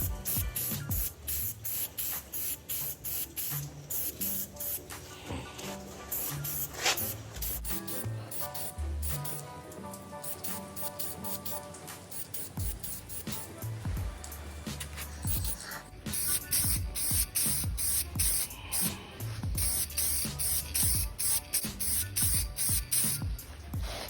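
A spray can of paint is sprayed onto car parts in bursts, hissing close and loud, with short clicks and pauses between passes and longer, steadier sprays toward the end.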